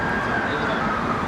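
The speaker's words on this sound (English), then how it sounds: "sounds like we've got some sirens" Emergency vehicle sirens wail along a Toronto Danforth street, loud and steady in a short burst within the dense street noise, with voices mixed in.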